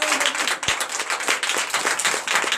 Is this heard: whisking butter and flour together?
no